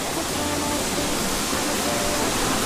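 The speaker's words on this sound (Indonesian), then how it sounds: "Di sana air terjun Antawila" Mantawila waterfall, a dense, steady roar of falling water heard up close, loud and unbroken with no pauses.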